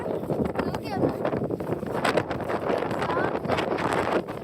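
Wind blowing through an open outdoor area at Halibut State Park on a chilly late-November day, a steady broadband rush buffeting the microphone under a voice talking throughout.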